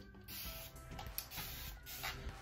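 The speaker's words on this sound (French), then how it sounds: "je vais vaporiser mes cheveux" A hand-pumped spray bottle mists water onto kinky, coily hair being styled, giving several short, close hissing bursts separated by faint plastic trigger clicks and creaks.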